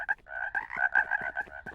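Cartoon frog croaks in a rapid, buzzy, pulsing run of short calls lasting under two seconds, close and clear with no talk over it.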